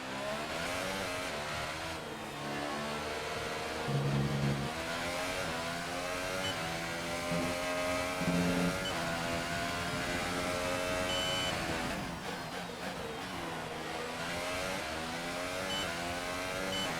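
A Formula 1 car's engine in the F1 2018 racing game screams steadily through the gears during an Australian Grand Prix qualifying lap, with rising and falling pitch sweeps as it accelerates hard, loud and continuous throughout.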